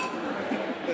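Glasses clink together in a toast, giving light glassy chinks amid people chatting close by.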